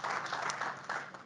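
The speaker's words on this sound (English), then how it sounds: "So round of applause for book launch." A conference audience applauds a book launch, a brief, fairly faint burst of crowd clapping with a slightly distant, roomy character, lasting just over a second.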